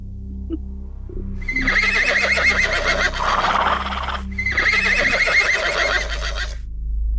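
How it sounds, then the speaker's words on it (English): A horse neighs loudly in two long whinnies during a tabletop role-play session, close and forceful over a steady low background hum. "that is a loud horse"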